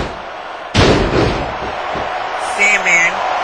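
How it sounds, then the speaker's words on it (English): A wrestler is slammed onto the mat with a powerbomb during a cage match at a 2007 indie wrestling event, producing a sudden loud, booming impact that rings out over the crowd noise, followed by a commentator talking. "Oh, what a power bomb!"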